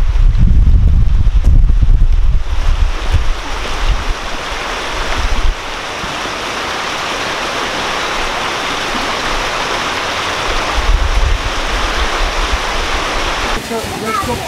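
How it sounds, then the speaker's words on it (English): A restored water wheel, driven by water from a dam and rebuilt to run as it did 200 years ago, turning beside the River Porter in Sheffield, heard as a steady loud rush of flowing water with some wind buffeting. "This is the water wheel,"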